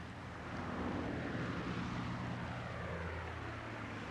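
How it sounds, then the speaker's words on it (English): A propeller aeroplane passes overhead on a holiday trip, a steady low droning rumble that swells and holds for a few seconds without voices. "That's not thunder, Lucienne. That's an aeroplane."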